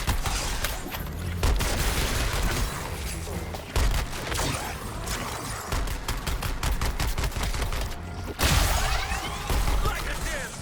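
Explosions erupt in a third-person shooter game while playing as Joker: dense rattling gunfire and booming blasts, with two sharp bursts, loud and continuous throughout.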